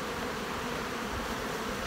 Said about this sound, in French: fait que les abeilles remontent